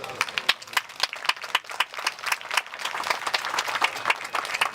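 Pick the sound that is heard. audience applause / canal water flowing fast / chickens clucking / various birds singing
audience applause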